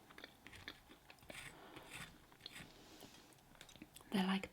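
Crunchy, pastry-like cereal chewed close to the microphone, giving soft scattered crunches and bites at a low level, with a louder crisp crunch near the end.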